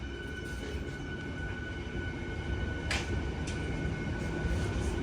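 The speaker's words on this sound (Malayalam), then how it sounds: "അതുപോലെ തന്നെ നമ്മളാ വന്ന ഒരു ട്രെയിൻ അതിവിടെ നിന്ന് എടുത്തിട്ട് പോവാണ്." A crowded passenger train bound from Prayagraj to Mau pulls out of the station with a steady, moderately loud rumble of rolling wagons, broken by a sharp clank partway through.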